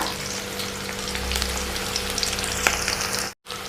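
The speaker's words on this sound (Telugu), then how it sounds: "ఎర్రగడ్డలు పచ్చిమిరపకాయలు బాగా వేయించుకోవాలా బాగా వేయించుతాండా" Onions and green chilies fry in hot oil for a liver curry, giving a steady, moderately quiet sizzle with light crackles and no talking.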